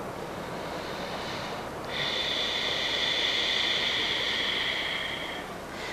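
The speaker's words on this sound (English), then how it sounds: "stretching out your exhales and making them sound like this" A long, slow breath pushed out through the mouth, airy and hissing, sustained for several seconds against a soft background.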